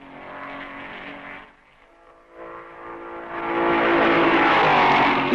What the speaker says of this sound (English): 2 laps behind the leaders come the Maseratis of Padisa 8th and Rosier 9th